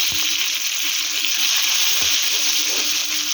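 Two tomatoes frying in a hot pan of oil give off a loud, continuous bright sizzle, with a couple of faint knocks and no talking.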